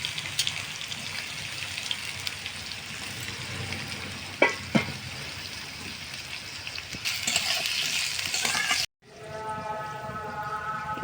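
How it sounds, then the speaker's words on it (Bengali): Cut potato pieces frying in hot oil for a prawn and banana-flower chorchori, a steady crackling sizzle with a few sharp stirring clacks midway, then a brief gap before the sizzle resumes. "আলুগুলো একটু ভালো করে আমি ভেজে নেবো প্রথমে।"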